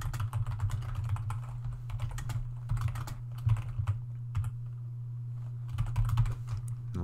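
Computer keyboard typing during a programming lecture on array access, steady clusters of keystrokes at moderate level over a constant low hum, with no talking.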